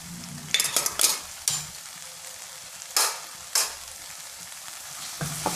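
Spoon stirs cumin powder, black pepper and garam masala into a simmering gravy for khoya paneer, making several short scraping strokes over a low, soft sizzle, with no voices.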